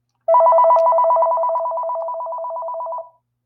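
A telephone rings loudly and close by in one long continuous electronic trill of about three seconds, with no talk over it.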